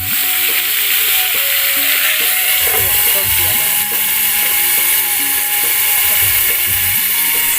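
Brinjal (eggplant) frying in a pan for bharta gives a loud, constant sizzle and hiss up close, with faint tonal background sounds underneath.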